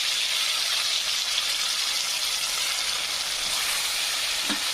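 Onions and tomatoes frying steadily in a pan, a close, continuous broadband sizzle with no talk, plus a small clink of a utensil near the end.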